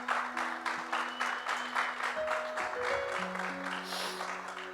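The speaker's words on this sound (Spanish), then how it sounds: "¿Cuántos pueden darle un aplauso?" Congregation applause at a church service, a dense wash of clapping that carries steadily throughout, overlaid by sustained organ or keyboard tones.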